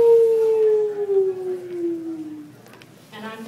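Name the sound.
man imitating wolf howl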